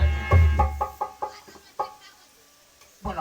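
A rooster clucking close by, a burst of rapid evenly spaced clucks that trails off, then one more cluck after a short pause.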